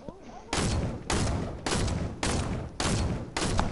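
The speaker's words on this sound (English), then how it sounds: "Oh, why are you shooting? I can see you shooting." Video game gunfire comes as six loud, close bursts spaced roughly half a second apart, each with a sharp attack and brief decay.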